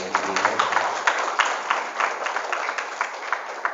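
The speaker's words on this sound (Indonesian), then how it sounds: "Tepuk tangan untuk kita semuanya" Teachers seated at an Islamic boarding school event clap in a rhythmic, moderately loud pattern, individual claps distinct and evenly spaced, with faint voices beneath.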